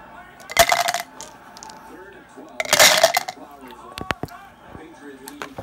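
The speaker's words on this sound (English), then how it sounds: "Remove dice from the blister and place them in the storage cup." Dice drop into a board game's plastic storage cup in two bright rattling clatters, followed by small clicks and knocks, with a person talking softly between.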